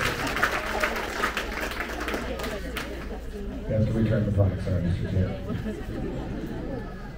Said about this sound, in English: All right, another big round of applause